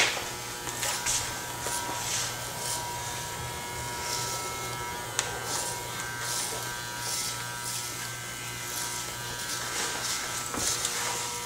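Electric hair clippers buzz steadily up close giving a brush cut, with small changes in tone as they move through hair, and faint scattered clicks in the background.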